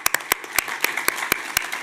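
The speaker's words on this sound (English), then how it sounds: "And yes, let us clap on that." Scattered hand claps from an audience at a city commission meeting, a handful of sharp separate slaps in loose rhythm over a faint room murmur.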